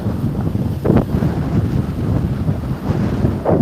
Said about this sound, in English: it's quite windy this side, guys